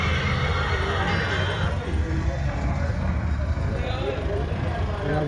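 Horses neighing at a livestock fair in Muktsar, Punjab, with loud continuous crowd murmur and nearby voices talking throughout.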